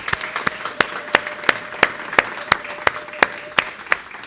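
A single pair of hands claps in a slow, even rhythm at a gala, about a dozen sharp claps spaced evenly and fairly close.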